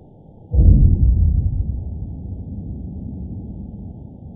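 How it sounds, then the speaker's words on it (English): A big boom from an underwater oil rig picked up by a hydrophone: a sudden deep muffled thud that rolls into a long, low rumbling decay, heavy and bass-only with no other sound. "Apparently, that sound was caught on a hydrophone and it is coming from an underwater oil rig."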